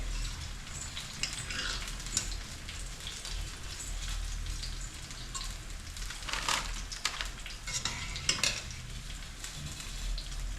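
Small punugulu batter fritters fry gently in hot oil, giving a soft continuous bubbling sizzle with scattered pops and a few brief louder stirring scrapes, fairly quiet and close, with no talking.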